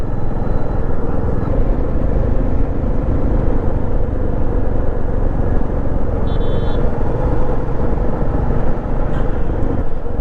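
A Meteor 350 motorcycle rides along a quiet forest road in the monsoon, with a loud, continuous engine drone and rushing wind noise filling the whole stretch without pause.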